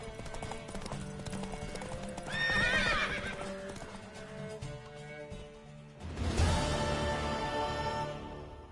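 Horse hooves clip-clop at a brisk pace in The Witcher 3, with a loud whinny partway through and a second surge of hoofbeats and neighing near the end.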